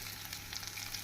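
Chopped onions with curry leaves and salt sauté in hot oil, making a short, steady, soft sizzle with no voices.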